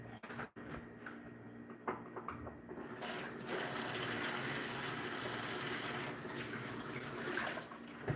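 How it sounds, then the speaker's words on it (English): Hands being washed under running water at a sink, heard as a steady, fairly faint rush of water with soft splashing that continues for several seconds, with no talking. "Wash my hands."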